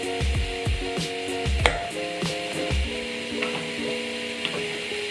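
Thinly sliced vegetables frying in a pan for a creamy chicken and crushed potatoes dish, a steady close sizzle with a few dull knocks and stirring scrapes near the start, no voices.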